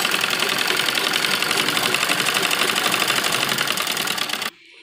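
A sewing machine stitches a net lehenga blouse with a fast, steady, rattling run that is loud and close, then stops abruptly near the end.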